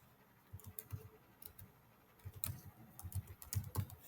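A computer keyboard being typed on to enter a folder name: two short bursts of quick, close key clicks separated by a brief pause, with no talking.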